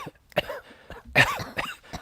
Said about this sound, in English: And we hear the cough again